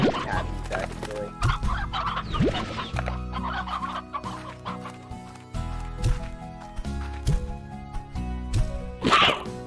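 Chickens clucking in the video game Slime Rancher: repeated clucks and squawks over background game music, fairly close, with a louder squawk near the end.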